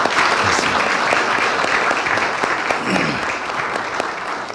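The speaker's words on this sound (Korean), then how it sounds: "우리 박수로 격려하겠습니다." A university chapel audience applauds a newly formed choir, with dense, sustained clapping that fills the room and continues evenly with no speech over it.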